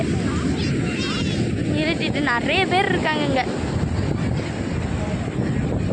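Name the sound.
cool wind blowing at the beach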